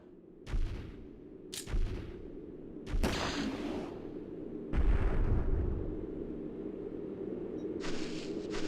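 Gunfire booms in the video game Shadow Tower: Abyss, a series of heavy, echoing shots at irregular intervals, with one longer rumbling blast near the middle and steady low background ambience throughout.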